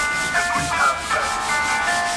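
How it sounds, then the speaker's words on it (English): Sanding a dried coat of drywall joint compound, heard as a steady close rubbing and scraping with a faint tonal whine underneath. "Well, I gotta sand this part first though, and then put my tape."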